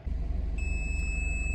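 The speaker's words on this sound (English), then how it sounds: "excuse the beeping, that thing's going crazy because I have this connected to it" A steady high-pitched electronic beep tone sounds continuously from an Audi TT with a diagnostic tool connected, over a low, pulsing engine idle rumble.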